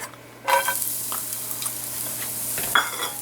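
Garlic toasting in a hot pan, a steady close sizzle that kicks in suddenly and runs on, with a few soft stirring scrapes and faint clicks along the way.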